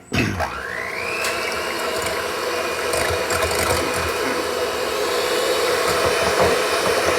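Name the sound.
electric beaters mixing sugar into batter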